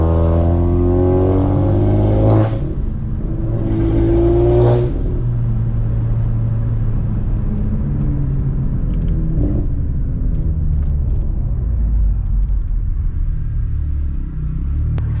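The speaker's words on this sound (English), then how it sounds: "keep it in gears to let you guys hear some of the, you know, maybe the turbo noises and the blow-off valves" Modified Audi RS5 held in gear in manual mode, its engine rumbling loudly with rising revs, a couple of sharp turbo blow-off whooshes early on, then a steady drone.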